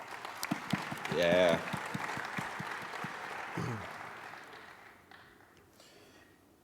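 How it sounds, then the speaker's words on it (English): Applause from a conference audience at a keynote, a modest spread of clapping that fades over several seconds, with a brief voice speaking and a short vocal exclamation over it. "let's give applause to all of us."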